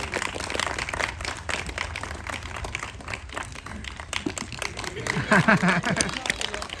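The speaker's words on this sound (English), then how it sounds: "Can we give her a big cheer if she gets this last one?" Crowd at a Blackpool Zoo sea lion show clapping and cheering, a dense patter of hands rising near the end, heard under a presenter's voice over the open-air poolside.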